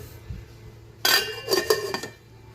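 A metal lid clatters onto a cooking pot of sinigang, a bright ringing clang followed by a few quick rattling settles, close and loud with no talking.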